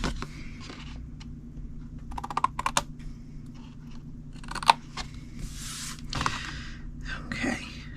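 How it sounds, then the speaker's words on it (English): Paper trimmer blade slicing cardstock along score lines for a long Kit Kat treat box, heard as a quick series of close, crisp scraping and clicking cuts with no talking. "go to that last score line, cut it to the second score line, take off the bottom rectangle"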